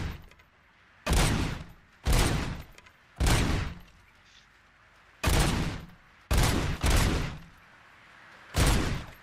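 Gunfire at shooting-range targets in Robocop: Rogue City, seven loud close shots spaced irregularly a second or so apart, two of them nearly back to back, with quiet gaps between.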